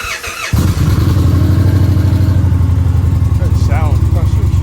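A motorcycle fitted with a Stage 1 air cleaner starts and then idles in neutral, close by and loud, with a steady low throbbing rumble. A voice talks briefly over it.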